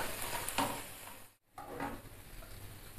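Zaalouk being stirred in a pan as vinegar cooks off, a soft sizzle with scraping spoon strokes, fairly quiet and close, briefly dropping out midway before resuming.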